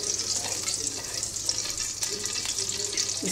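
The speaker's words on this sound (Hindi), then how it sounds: "आँच को तेज़ रखना है ताकि चिकन जल्द से जल्द फ्राई हो जाए।" Chicken sizzles with garam masala in a pan over high heat, a dense, even hiss that runs throughout, with a few faint stirring scrapes and clinks close by and no talking.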